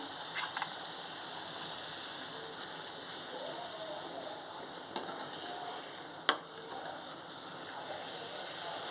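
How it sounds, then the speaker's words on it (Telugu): Wheat-flour puris for jaggery-syrup puris deep frying in hot oil, a steady close sizzle with a few sharp pops and clicks. "డీప్ ఫ్రైకి ఆయిల్ పెట్టుకున్నాను ఇప్పుడు మనం పూరీస్ చేసుకున్నాం కదా అవి ఒక్కొక్కటిగా వేసేసుకోవాలి"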